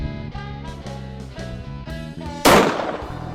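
A single gunshot from a handload fired with a Magnum primer on a shooting range, one sharp loud blast with a decaying tail, heard over tonal background music.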